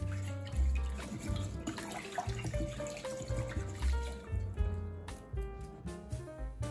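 Rice is rinsed under running tap water in a bowl, giving a close, continuous splash and trickle with sloshing and dribbling as the grains are swirled and the water poured off.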